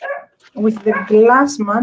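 Dogs bark and yip in short bursts close by, overlapping a voice as she talks.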